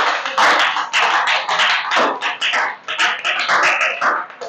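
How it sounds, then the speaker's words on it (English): A small group claps in close, uneven bursts of sharp hand claps for several seconds, loud and alone without talking. "Give him a big round of applause."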